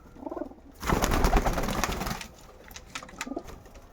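Kaldom pigeons coo nearby in soft repeated bursts, with a loud flurry of flapping wings near the start and short calls toward the end.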